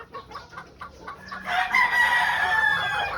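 A pure white Kelso rooster crows loudly and close, one long drawn-out call following some shorter clucks and rustling, with no voices.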